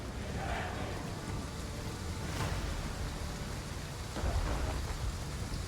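Battlefield rain in a strategy video game set in ancient Babylon, a steady wash of rainfall hiss with a low rumble of thunder underneath, even and continuous throughout, with no voices.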